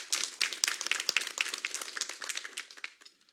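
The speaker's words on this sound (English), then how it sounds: "Can we have a round of applause?" Applause and scattered clapping from the audience at a city council meeting, a dense burst of many hands that thins out and fades over about three seconds, fairly close and without talk.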